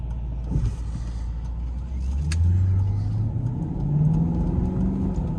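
A 2009 Maserati Quattroporte S Executive GT engine while driving, a deep close engine note that rises as the car accelerates, climbing in pitch twice in smooth pulls.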